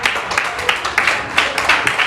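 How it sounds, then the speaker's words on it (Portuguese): A church congregation clapping in a steady rhythmic beat during a worship service, the claps bright and dense as a whole crowd joins in together. "Essas palmas do Senhor, igreja."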